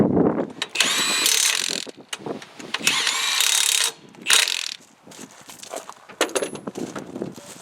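A ratchet wrench works the lug nuts on a 1962 Ford Galaxie 500XL wheel, giving close, loud bursts of rapid clicking and whirring separated by short pauses.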